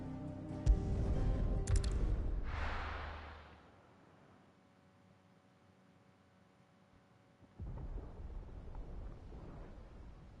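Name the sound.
thunder in the video game Final Fantasy XVI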